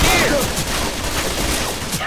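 Dense, loud gunfire rattles without pause in the video game Left 4 Dead 2, a continuous fusillade of rapid shots close up, with a voice partly under the shooting.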